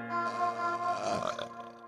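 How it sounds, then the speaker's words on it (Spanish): A man's long, drawn-out burp in a casual, playful setting, a single sustained gurgling belch that holds steady for nearly two seconds, close and fairly loud, with no talk over it. "Ando con un poco de eructo. Bueno, eructá, tranquilo,"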